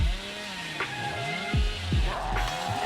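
Cartoonish chainsaw revving inside a video game, whining engine tones that swoop up and down in short bursts with thumping impacts, steady and fairly loud over a busy game-sound background.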